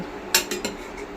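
A spoon stirs chicken pieces in a pot of dhaba-style chicken masala after a cup of water is added, giving three quick metallic scrapes and clinks against the pot, close and fairly loud, with no talking.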